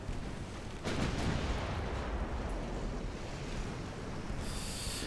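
Continuous heavy rumbling roar with dense low booms of naval artillery fire in a video game, blended with surf-like wash, steady and loud throughout.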